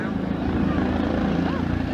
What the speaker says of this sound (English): if you can hear me over the helicopter